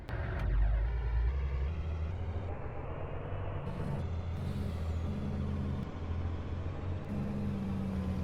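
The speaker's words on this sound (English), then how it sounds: "we're gonna fire up one of these semis here and unhook it" Semi truck in a farming video game, its engine rumbling low and steady while sharp air-brake hisses and pneumatic bursts come in and out, loud and close, with no talk.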